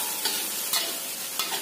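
Food frying in a pan with oyster sauce is stirred steadily, a continuous close sizzle broken by a few soft scraping strokes of the spoon, with no talking.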